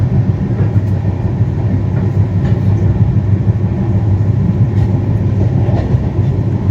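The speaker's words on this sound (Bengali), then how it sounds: "ওইদিকে একটা লোকাল ট্রেন যাচ্ছে আমাদের পাশাপাশি" A Naihati local train that has just departed runs alongside the Sealdah–Balurghat Express, and the two trains together make a loud, steady rail roar with faint wheel clatter heard from inside a moving carriage.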